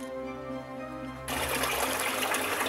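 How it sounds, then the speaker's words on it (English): Water falls into a rivulet running across a garden display at a handmade religious craft exhibition in Hamrun, Malta; a soft hum gives way to a steady, bright splashing rush that continues to the end. "you can see the falling water, the rivulet across the garden, makes a nice noise"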